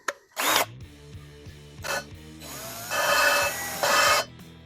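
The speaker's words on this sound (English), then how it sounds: "Put this drill on the back side here." A power drill whirs in several bursts, short at first and then longer, starting and stopping close by with no talking, used while lapping valves on an LS engine.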